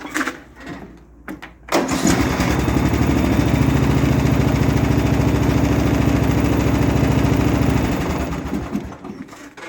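A Sabre lawn mower engine, recently flooded with gas and given fresh oil, catches after a few sputtering pulls and settles into a loud, steady running drone close by, then dies down near the end.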